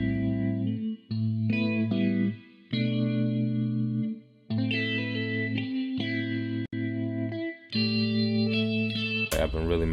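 A drum loop treated with an RC-20 Retro Color wobble effect, a soft, vintage-toned groove of chopped, pitched hits with brief gaps, close and moderately loud, the wobble subtle.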